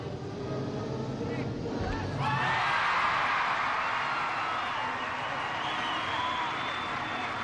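Crowd at the 1996 US National Gymnastics Championships bursting into loud cheering and whooping partway through, sustained as a broad roar after a quieter stretch of arena noise.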